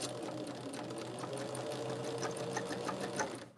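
A sewing machine stitching quilt block fabric runs in a steady, close mechanical whir with a fine rapid needle rhythm throughout, alone without talk.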